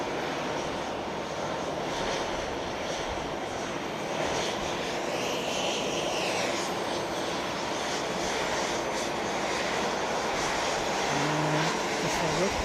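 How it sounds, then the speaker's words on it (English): Aircraft jet engines roar in a steady, broad wash while taxiing at Fukuoka International Airport, continuous and moderately loud throughout with no talk. "you'll see Jow taxiing, and there's incoming aircraft."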